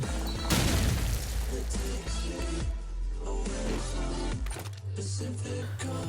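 A grenade blast from Call of Duty 4 ProMod: a sharp, loud boom that rolls into a low, lingering rumble over continuous game sound and background music, with a second lower thud near the end.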